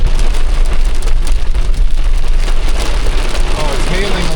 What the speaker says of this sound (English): The rain is going to last, but hopefully it'll resolve quickly.